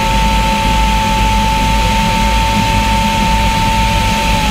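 A steady, roaring turbine engine with a high-pitched whine runs continuously at close range, then stops abruptly: a 420-horsepower Rolls-Royce turbine fitted in a motorcycle.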